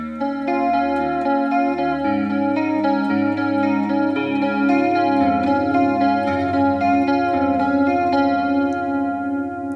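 Electric guitar with a shimmering chorus effect plays a steady picked chord phrase, notes ringing and overlapping, clear and up close with no voices.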